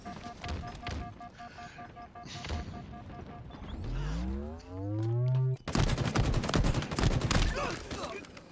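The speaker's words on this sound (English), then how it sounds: "see beams from the Sentinel rifle coming across real fast" Gunfire fills a competitive video game tournament match, with Sentinel rifle beams streaking across. Scattered shots give way to sweeping, rising whooshes, then a dense burst of rapid fire that runs loud to the end.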